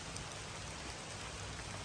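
Steady rain patters on the roof and body of a minivan parked at a campground, a dense, even hiss of drops close by with no voices.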